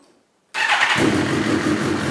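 Suzuki GSX-R1000 sport motorcycle engine cranking and catching after a brief silence, then settling into a loud, close, steady idle rumble.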